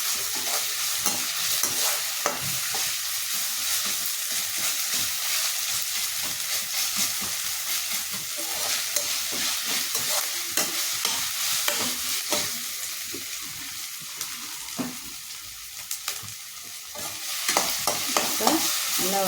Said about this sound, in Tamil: இந்த வெங்காயம் கொஞ்சம் நல்லா வதங்கிருச்சு. இந்த ஸ்டேஜில் ஒரு சும்மா கொஞ்சம் மட்டும் ஒரு சின்ன ஸ்பூனில் ஒரு கொஞ்சம் இஞ்சி பூண்டு பேஸ்ட் போட்டிருக்கேன்